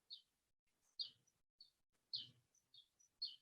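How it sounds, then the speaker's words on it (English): Small birds chirp in short, bright bursts, about eight calls spaced irregularly, faint and somewhat distant against near silence. "For some reason, some birds got recorded when I was recording the screenshot."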